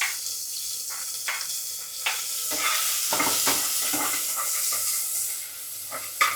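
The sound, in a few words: onion and green chillies sautéing in a pan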